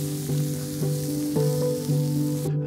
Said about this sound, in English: What about that for a sizzle?